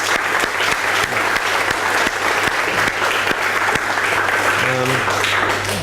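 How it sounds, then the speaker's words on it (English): An audience at a mathematics lecture on functions of matrices bursts into sustained applause, a dense, even patter of many hands clapping throughout, fairly loud and close. "So let's give them a big round of applause."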